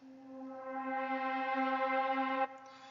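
A single soft synth pad note swells in and holds steadily for a couple of seconds, then drops away abruptly, faint and alone.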